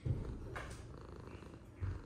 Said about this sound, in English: Purring, huh?